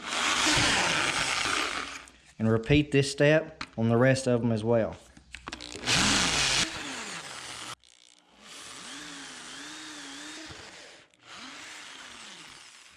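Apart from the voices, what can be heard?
power drill drilling out steel rivets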